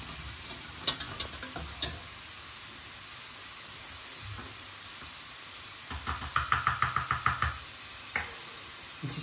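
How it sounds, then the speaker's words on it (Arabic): A metal spoon stirs salmon with leeks in a sizzling pan, sending faint frying hiss under sharp knocks and a quick run of rhythmic clinks against the pan, heard close. "ونحركو شويه."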